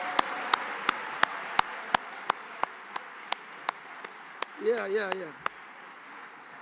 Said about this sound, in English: let's have a hand of applause for our Ambazonian